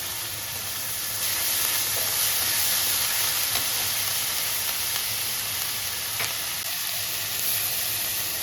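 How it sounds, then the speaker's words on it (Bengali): Ginger and garlic paste frying in a pan in a Bengali kitchen, part of cooking a pointed gourd and prawn dish, gives a steady, moderately quiet sizzle and hiss that carries on without pause, with no voices. "দেবো আদা বাটা আর রসুন বাটাটা"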